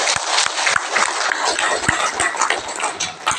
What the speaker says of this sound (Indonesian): Kita beri tepuk tangan yang meriah kepada